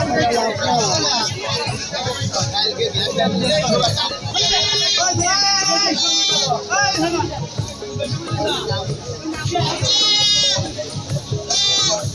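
Goats at a busy rural livestock market, the Janatar Haat in Ullapara, Sirajganj, bleat repeatedly in loud wavering cries over constant crowd chatter and nearby talking voices.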